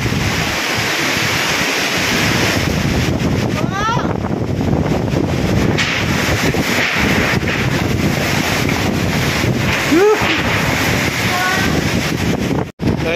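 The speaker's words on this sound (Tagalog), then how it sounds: "Sobrang sa lakas ng hangin at ulan." Strong gusting wind buffets the microphone with a heavy roaring rush, like a storm with rain, and a few faint squeaks cut through.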